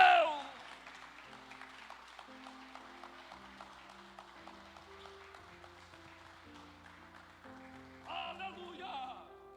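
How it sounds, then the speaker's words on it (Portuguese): A congregation at a Portuguese-language evangelical church service claps in praise, a soft spread of applause running under sustained music and voices, with a brief louder swell near the end. "aplauda glorificando e glorifica aplaudindo a esse Deus."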